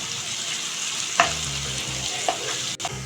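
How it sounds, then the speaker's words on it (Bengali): Tomato puree cooks down with ginger-garlic paste for a chicken leg masala, a steady close hiss of frying with a couple of brief spatula scrapes and a soft clack, no one speaking. "টমেটো পিউরিটাকে একটু ভালো করে কষিয়ে নিচ্ছি এই 2 মিনিটের মতো"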